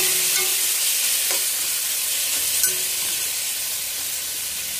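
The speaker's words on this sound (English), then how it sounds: "so I can add all this pork" Pork belly hits warm oil and fries with a loud, dense, steady hiss close by, a few faint clinks near the start, with no talking.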